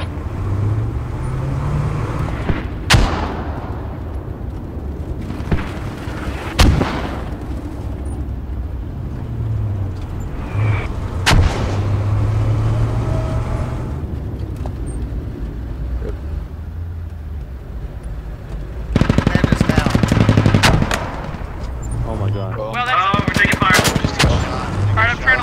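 Mortar and gunfire crack from a Squad battlefield as loud, sharp reports and bursts over a constant engine rumble, with a dense stretch of rapid fire near the end.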